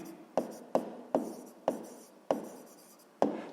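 A pen writes on paper in a sixth-grade maths exercise, six distinct short strokes, each a sharp scratch fading away, close and fairly quiet.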